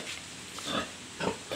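Pig grunts from a breeding sow that is failing to get pregnant, heard as a few short, close bursts that rise and fall in irregular clumps, with no talk over them.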